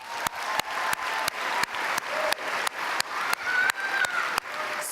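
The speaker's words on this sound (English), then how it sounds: "A hearty round of applause for our students in social science." An audience applauds social science students at a Sterling Scholar awards ceremony. Sharp, evenly spaced claps pulse about three times a second over a soft crowd wash, and the rhythm holds for nearly five seconds.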